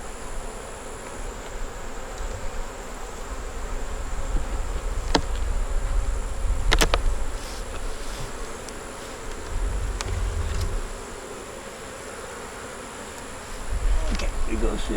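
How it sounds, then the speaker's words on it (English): A bunch of bees swarm around a hive with a dense, continuous buzz. Soft handling knocks and thumps from the beekeeper rise and fall beneath it. "And down here we got a bunch of bees"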